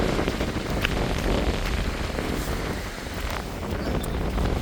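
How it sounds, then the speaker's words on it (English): Wind gusting on a seafront walk, a steady roar of wind buffeting the microphone throughout with no clear voices. "It's a bit windy."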